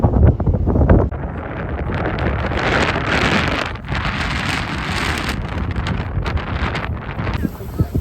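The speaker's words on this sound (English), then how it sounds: "It's a really strong breeze, chilling everyone out" Strong wind roars and buffets a microphone continuously while walking downhill in San Juan, Puerto Rico, a loud rushing blast that barely lets up.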